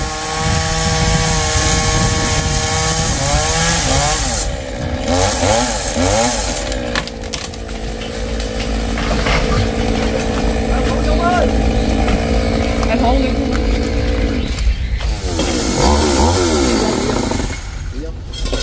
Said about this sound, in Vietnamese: Cưa cái nhánh, cái nách, sát nách của cây xoài.